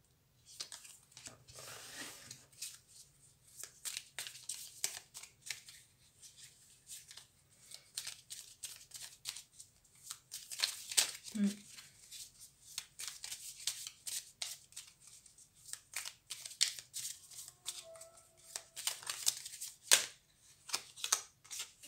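Tarot cards being shuffled by hand in a quiet room, a steady run of soft papery riffles and flicks with a few sharper slaps, fairly close and moderately quiet, with no talking.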